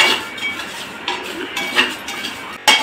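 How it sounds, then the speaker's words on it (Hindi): Coriander, chili and fennel roasting in a hot kadhai over a village cooking fire: a steady dry sizzle with small pops and crackles coming close and clear, irregular and faintly metallic, with no one talking. "हमारा धनिया लगभग लाल हो चुका है। देखिए किस तरह से आवाज़ थोड़ा थोड़ा कर रहा है"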